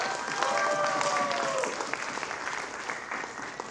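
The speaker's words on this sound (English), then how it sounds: "I definitely want to give her an extra round of applause for making those visuals." Audience applause at a college electronic music concert, a dense burst of clapping from the crowd that is loudest at first and then thins into scattered claps, with a few faint tones ringing underneath.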